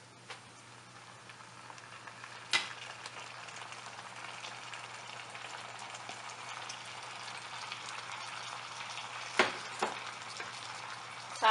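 Minced meat fries with garlic and ginger in a pan, making a quiet, steady sizzle with a few sharp clicks and pops.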